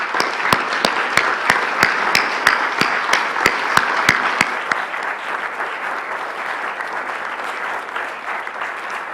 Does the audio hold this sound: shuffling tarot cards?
no